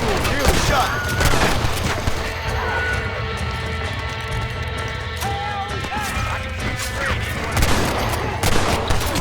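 Gunshots in the Red Dead Redemption video game, several sharp cracks at the start and near the end over a busy background of music and game sound, with voices between them.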